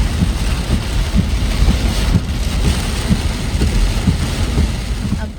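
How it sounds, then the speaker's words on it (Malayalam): Heavy monsoon rain in Kerala pours steadily with a dense, constant roar and close, loud patter on surfaces throughout, without a break. "നല്ല അടിപൊളി മഴയാണ് ഇവിടെ"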